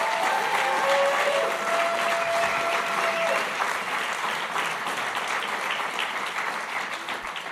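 Sustained applause from a large audience at an international policy summit in Jerusalem, a dense steady roar of clapping that fills the whole stretch and tapers only slightly toward the end.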